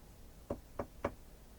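Someone mimics knocking on wooden doors, giving three evenly spaced dull knocks, quiet and close, with nothing else heard around them.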